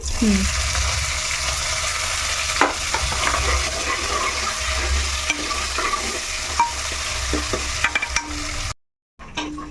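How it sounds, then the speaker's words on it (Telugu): Onions and green chillies frying in a pan, a steady close sizzle with stirring scrapes throughout, cutting out briefly near the end. "ఉల్లిపాయలు వేయించుకుంటాం"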